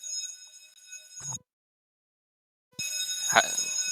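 A building fire alarm under test sounds a loud, steady electronic tone that cuts out for over a second, then resumes with a brief knock.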